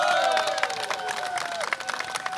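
An audience at a charity event for earthquake victims claps and cheers in a brief burst of scattered applause, fairly distant, with faint voices mixed in.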